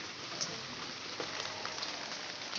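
Steady rain falling on garden trees such as jackfruit, guava and banana on a dark, cloudy day, a continuous soft hiss of drops on leaves with no voices.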